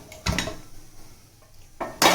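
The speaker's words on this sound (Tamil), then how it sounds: "நம்ம இப்போ மூடியை திறக்கலாம்" A pressure cooker holding tomato rice is opened after its whistles stop, giving two sharp metallic clanks of the lid a moment apart, close and fairly loud, with quiet kitchen background between them.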